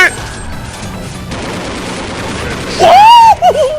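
A single loud shotgun blast in Counter-Strike Online stands out above a busy firefight with scattered gunfire, followed by a rising whistling tone.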